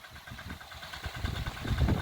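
A tractor engine runs while ploughing a coriander field in a Gujarat village, a fairly faint, uneven chugging rumble that rises a little toward the end.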